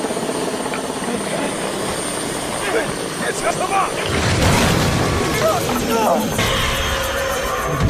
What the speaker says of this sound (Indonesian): tiba-tiba terdengar suara helikopter yang terbang tepat di atas gedung mereka saat ini